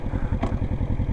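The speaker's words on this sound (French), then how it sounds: "Je démarre, je pars, j'ai ma première" A motorcycle pulling away in first gear during a learner's A2 licence riding lesson, a steady mid-pitched engine chug with a brief clatter partway through, fairly close and unaccompanied by talk.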